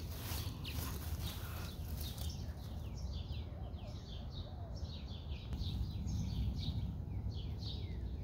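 Several small birds chirp and call in a backyard garden after rain, quick repeated tweets scattered throughout at moderate distance over a steady low outdoor hum, with no one speaking.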